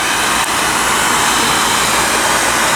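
A heat gun blows steadily as it warms the case of a practice 2-stroke engine during blind bearing removal, a loud continuous roaring hiss that holds unbroken from start to finish with no talking.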